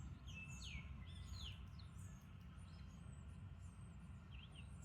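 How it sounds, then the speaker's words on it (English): A male and a female bird chirp while they eat, their quick, bright tweets scattered and fairly faint over a low, steady background rumble. "I'm watching these birds eat."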